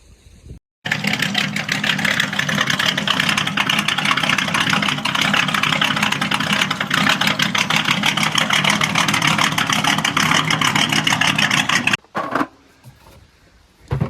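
An old Chrysler V8 engine, revived after sitting over 20 years, idles loudly and steadily for about eleven seconds with a rough, rhythmic chug, then cuts off abruptly, leaving quiet with faint handling noises.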